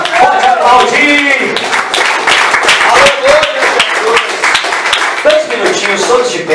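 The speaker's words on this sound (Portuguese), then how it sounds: "Pode aplaudir, pode aplaudir, pode aplaudir." A church congregation claps in a lively, rhythmic round of applause while a preacher's voice continues speaking over it throughout.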